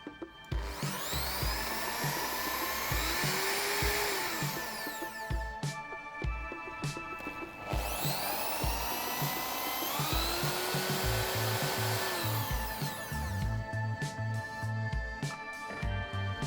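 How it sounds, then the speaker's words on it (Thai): A power drill bores holes into the handle of an old spatula being shaped into a snakehead fishing lure, whirring steadily in two long close bursts with rising pitch as the bit bites and slows. "เจาะครับ"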